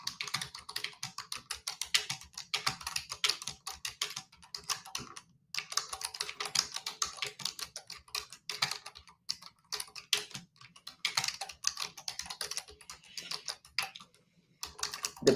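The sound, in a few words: typing on a computer keyboard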